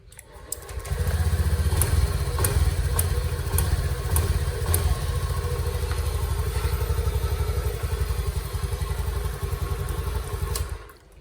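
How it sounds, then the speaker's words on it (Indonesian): A Honda fuel-injected motorcycle engine cranks on the electric starter and catches, then runs at a steady, loud idle with a rapid chugging pulse for about ten seconds before cutting off. "terus motor di starter juga ini sudah mau hidup"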